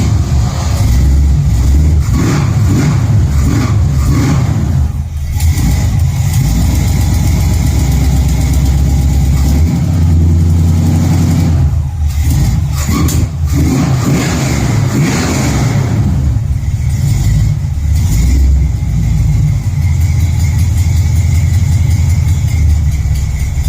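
Carbureted 302 V8 with Edelbrock Street Performer heads, Edelbrock intake and carb, roller rockers and a roller cam, idling loudly and close, with several sharp revs that rise and fall.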